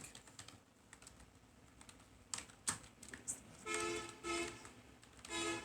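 Keys tapped on a computer keyboard while a description is entered into a form, in close, light clicks that come in short irregular bursts.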